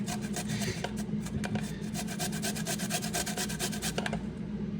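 Microplane grater rasping garlic and ginger in fast, steady back-and-forth scraping strokes, close and continuous for several seconds with no voices.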